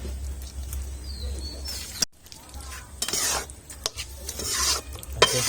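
Beef pieces frying in spices over a clay wood-fired stove, stirred with a metal spoon that scrapes and clinks against the pot while a steady sizzle runs underneath, with louder stirring bursts in the latter half.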